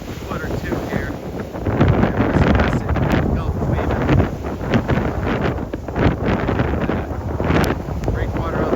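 Strong, gusty wind buffets the microphone in heavy rumbling bursts on a New England shoreline near a breakwater, with a voice talking intermittently under the roar.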